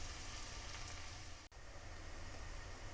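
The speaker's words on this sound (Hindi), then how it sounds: "प्याज को हल्का सा फ्राई कर लेते हैं।" Onions fry lightly in a few spoonfuls of oil in a pot, giving a steady, even sizzle with one brief dip partway through.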